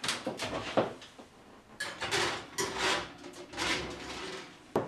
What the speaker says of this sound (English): You're going to put your Cheddar Bay biscuits into the oven for about 10 minutes at a preheated 450 degrees